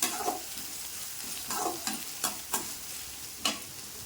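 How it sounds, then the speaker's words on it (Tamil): Dried red chillies and onions sautéing in a pan for a tomato dish, a steady close sizzle broken by several sharp scraping stirs of the spatula against the pan. "அந்த வரமிளகாயை போட்டுக்கிறேன் அது கூடயே வெங்காயத்தையும் போட்டுக்கிறேன் நல்லா சுருளாக வதக்கணும்"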